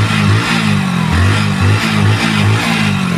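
A Hero HF Deluxe BS6 motorcycle with a choked, jammed air filter runs loudly up close, its engine pulsing in a steady, uneven rhythm of repeated revs without any talk.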